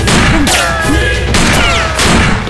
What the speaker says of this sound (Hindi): चलो गोलियां बरसाओ।